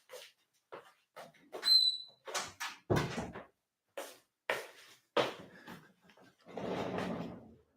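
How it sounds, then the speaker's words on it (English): A door bumps and rattles in a string of short knocks and thuds, ending in a longer scraping rustle near the close. "So I'm going to close the door"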